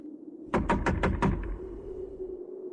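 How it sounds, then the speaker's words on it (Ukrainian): Five quick, evenly spaced knocks rap on a door, close and crisp, followed by a low lingering tone. "Підійшов, постукав в дім."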